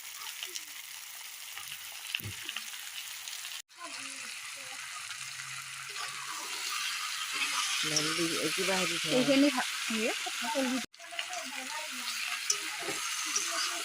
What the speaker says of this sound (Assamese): কঁঠালৰ মুচিখিনি ধুনীয়াকৈ ভাজি লওঁ।